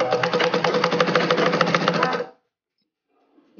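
Sewing machine stitching an umbrella frock, a steady rapid whirring run of stitches up close that stops abruptly, followed by near silence.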